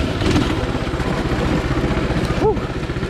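A Coleman CT200 mini bike engine labouring on rough single track, a loud close throbbing putter that bogs down unevenly, with a brief tonal squeak near the end.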